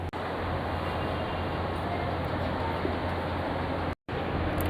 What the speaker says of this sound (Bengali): এটা হচ্ছে হাওড়া মেট্রো স্টেশন